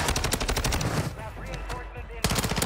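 Rapid video game gunfire, a dense burst of loud shots that pauses briefly and then resumes, with a voice talking partway through.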